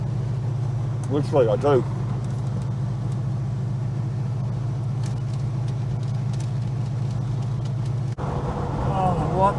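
A Holden HK car engine while driving, underpowered: a steady low drone holds throughout, with someone talking briefly over it near the start and again at the end.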